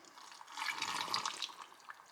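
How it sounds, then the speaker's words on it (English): Simple syrup poured into a canning jar, a soft splashing, trickling liquid stream that swells for about a second and then tapers off, close and fairly quiet. "And then we're gonna pour the simple syrup over top."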